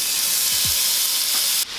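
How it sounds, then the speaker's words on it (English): Seasoned shrimp hit a hot oiled pan, a steady bright sizzle filling the clip with a couple of brief clatters as pieces land, then the hiss drops off sharply near the end. "And now I'm going to put my shrimp on."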